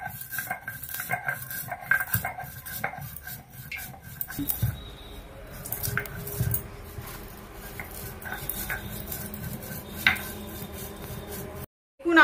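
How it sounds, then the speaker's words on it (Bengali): Spices being ground by hand on a stone grinding slab (shil nora), a continuous rough rubbing and scraping with irregular knocks, close and moderately loud, ending in a brief silence. "আমি কিন্তু শিলনোড়াতে মশলাগুলো গুঁড়িয়ে নিচ্ছি, যেটা আমি আলু চিপসে মেশাবো।"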